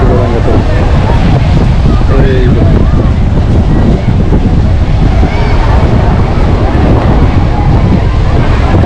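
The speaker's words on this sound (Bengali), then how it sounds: "আজকে মনে হচ্ছে বাতাসের গতিবেগ একটু বেশি" Strong wind buffets the microphone at Patenga sea beach in Chattogram, a steady loud roar with surf from rolling waves beneath it, continuous throughout with no clear talk.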